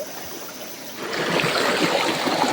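A creek runs with a steady broadband rush of flowing water, rising slightly louder partway through and continuing evenly, with no voices.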